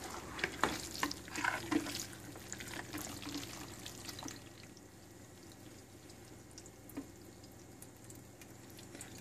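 Kefir grains spooned into a strainer, with a few wet scrapes and clinks early on that give way to soft dripping and trickling liquid, close and quiet.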